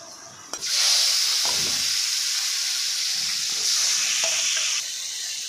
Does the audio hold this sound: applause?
no